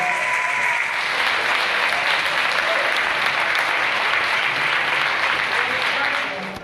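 Guests at a fellowship dinner applaud the announcement of a new sultan, sustained, full-room clapping that holds steady before fading at the close.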